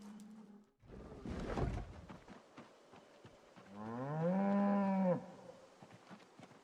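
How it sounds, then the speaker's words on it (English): A cow in a farming video game lets out one long, loud moo, preceded by a heavy thump and soft shuffling footsteps, with quiet game ambience around it. "why does it sound like the cow was walking in front of me when the cow was clearly walking behind me?"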